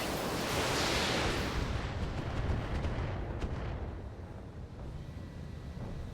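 Video game gunfire bursts in a rumbling, explosive wash of noise, with heavy, continuous booms and crackling shots at moderate level throughout.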